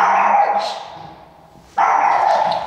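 In a survival video game, a dog gives two drawn-out barks or yelps with a short gap between them, loud and close.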